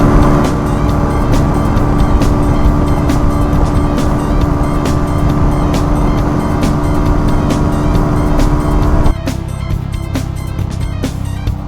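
Junak RS PRO 125 motorcycle engine running steadily and loud for about nine seconds, then dropping off abruptly as it rides away, leaving quieter outdoor noise behind; no one speaks.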